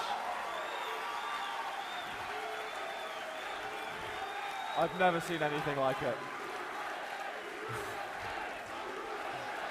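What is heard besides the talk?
Quakecon crowd cheering after the finals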